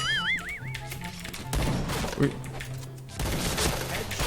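Shotgun fire in a classic shooter video game, a handful of sharp blasts cutting through game music and sound effects, with a voice talking over parts of it.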